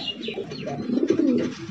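Pigeons kept at a big foreign-breed pigeon farm, among them a mukhi pigeon, cooing in a close, warbling low murmur that grows fuller toward the middle, with light chirps above it.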